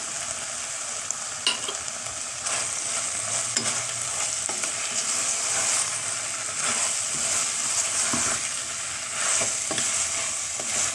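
Vegetables stirred with chili powder in a pan for a brinji rice dish, a steady scraping stir over a continuous bright frying sizzle, with several sharper spoon knocks along the way and no talking.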